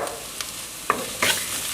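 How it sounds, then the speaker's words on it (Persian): A short burst of frying sizzle as onions are sautéed in a pan, with a faint stir and scrape of a utensil, with no talking. "تفت میدم اینا رو با هم دیگه"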